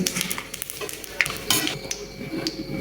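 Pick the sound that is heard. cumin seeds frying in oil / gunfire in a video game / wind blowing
cumin seeds frying in oil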